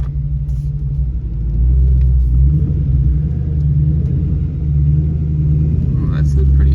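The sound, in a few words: Ford Mustang with drag radials driving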